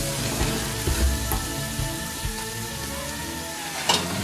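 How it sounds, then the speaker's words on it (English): Base gravy for curry bubbles and sizzles in a pan over reduced heat, a steady dense crackle with occasional louder pops, close and continuous with no voices. "And we'll let that simmer for a few minutes"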